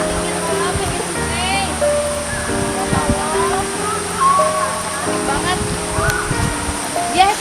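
A river flows through the Cibodas botanical garden, giving a steady, broad rushing wash throughout. People, including a child, talk over it.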